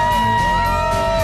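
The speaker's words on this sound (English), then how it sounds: "the biker crowd gets fired up" A biker crowd at a saloon whoops and cheers in a loud, dense burst of overlapping shouts and yells that lasts just over a second.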